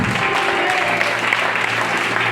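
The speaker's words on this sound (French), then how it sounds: "Acclame Jésus" Congregation at a French-language church service applauding, a dense, even wash of clapping from many hands sustained throughout with a low hum beneath and a voice faintly mixed in.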